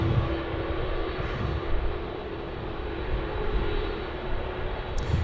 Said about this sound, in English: Another beautiful takeoff there from the Dash 8 on runway 16 right.